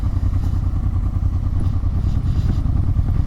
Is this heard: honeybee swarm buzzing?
no